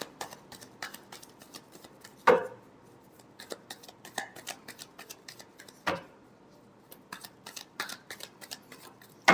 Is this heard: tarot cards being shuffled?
yes